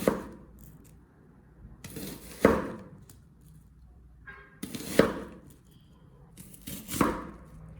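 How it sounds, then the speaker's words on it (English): A knife slices through two peeled, halved onions on a cutting board, giving four separate sharp cuts about two seconds apart, each a short crisp crunch against the board, fairly close and with no talk. "Cut them in half like this, then slice into pieces about 1 centimeter thick."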